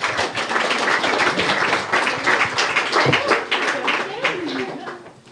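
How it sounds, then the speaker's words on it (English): Applause from a conference audience after a speaker on competitiveness of small and medium-sized cities in the Baltic Sea Region, moderate clapping blended with voices, fading toward the end. "Once again, applause."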